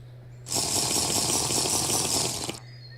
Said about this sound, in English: Let me drink some water real quick.